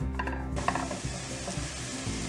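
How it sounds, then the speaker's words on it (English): Ginger garlic paste hits warm ghee in a pan and starts sautéing, a sudden soft sizzle rising after a brief quiet moment, then a steady close hiss with light stirring clicks. "To the warm ghee, I'll add the ginger garlic paste and saute this till it is light pink"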